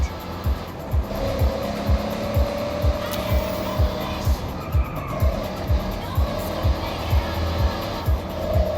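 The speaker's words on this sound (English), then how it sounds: "The 426 Hemi engine was nicknamed the Elephant due to its cast iron block" Plymouth Barracuda with a 426 Hemi engine driven in Forza Horizon, its steady engine drone running loud and continuous under game music with rhythmic thumps and brief tire squeals.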